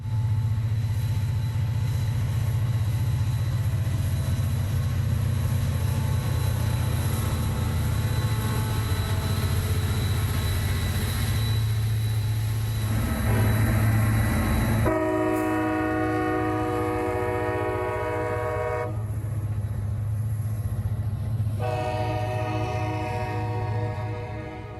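Local freight train led by a Jeep or SD40 locomotive passing at Cordele, Georgia: a loud, steady rumble of engine and rolling cars throughout, with a multi-tone horn sounding in long blasts in the second half.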